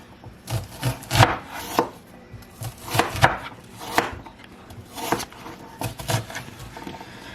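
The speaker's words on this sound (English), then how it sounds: "you're simply going to cut it into approximately 1/2 inch-ish cubes, bite-sized pieces" A knife chops vegetables into half-inch, bite-sized cubes on a board, a steady run of close, crisp knocks in quick bursts with short pauses between.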